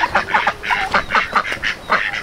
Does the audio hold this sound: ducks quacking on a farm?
yes